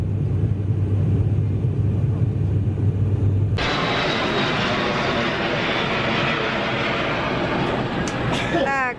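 Passenger airplane in flight and then landing at the airport in Naples, Italy, heard from inside the cabin: a steady low engine drone that abruptly gives way to a louder, broader roar that continues to the end.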